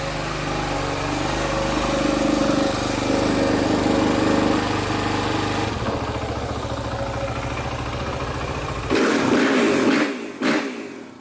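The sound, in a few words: Suzuki RMZ450 dirt bike engine running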